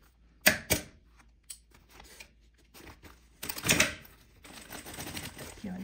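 A sewing machine stitches a thermal bag in short bursts of rapid mechanical whirring, separated by pauses and small handling clicks, with someone speaking Portuguese quietly in places.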